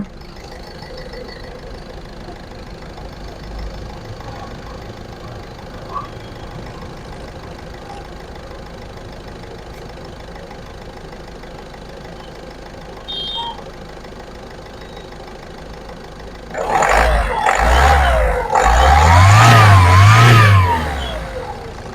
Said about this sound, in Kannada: ನೋಡ್ಬೋದು ಇಂಜಿನ್ ಸ್ಟಾರ್ಟ್ ಆಗಿದೆ.